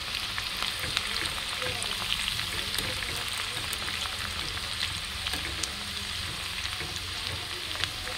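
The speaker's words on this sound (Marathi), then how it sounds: "तो कांदो जो आपल्या पुढे लागणार आहे रेसिपीसाठी, तो थोडं थोडं करून मी तो फ्राय करून घेतले" Onions frying in hot oil in a kadai, a continuous dense sizzle that holds steady throughout, with faint stirring clatter now and then.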